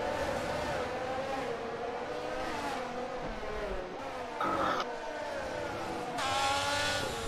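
Formula 1 race cars at the Hungarian Grand Prix in a racing game whine loudly, engine pitch climbing and dropping through shifts, with bursts of louder passing cars and brief tire noise.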